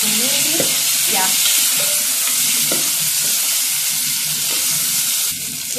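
Jute greens (mrenda) and beef being fried and stirred in a pan for a wet fry in a Kenyan kitchen, a steady close sizzle with scraping stir strokes throughout.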